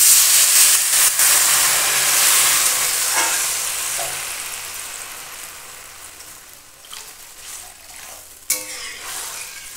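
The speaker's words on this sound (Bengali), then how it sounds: "হালকা ভেজে নিয়ে অল্প করে জল দিয়ে সেদ্ধ করে নেব।" Lentils lightly frying in a pan give a loud hiss and sizzle that gradually fades, with a few scraping stirs and knocks toward the end.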